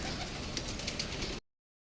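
Soft cooing of Urti-line pigeons sits under a steady, noisy background hiss for a second or so before cutting off abruptly.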